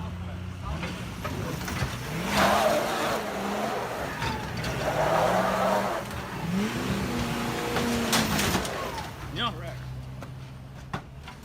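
A Ford car being revved hard and skidding during a roadside repossession, engine surging in repeated loud bursts with tire scrub, shouting voices mixed in throughout.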